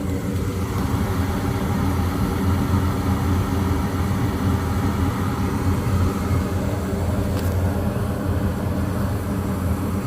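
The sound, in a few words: furnace inducer fan motor running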